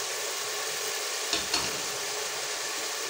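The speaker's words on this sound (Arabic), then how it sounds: "درت البصلة هكا تشحر واحد شوية" Onion frying in oil in a pot, a steady broadband sizzle running the whole way with a couple of brief stirring clicks partway through.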